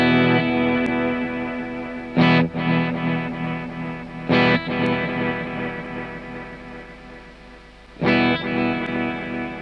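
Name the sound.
Kemper Profiler delay with grid off, guitar repeats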